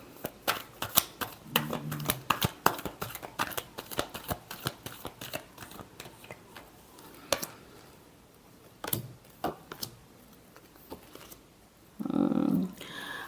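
Tarot cards are shuffled close up in a string of quick crisp riffles and light taps. A short low hum comes near the end.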